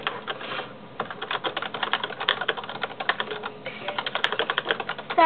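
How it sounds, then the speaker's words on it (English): Fast, continuous typing on a computer keyboard, with dense close-up key clacks in an uneven rhythm and a short pause just before the second second, all heard alone without talk. "typing my paragraphs"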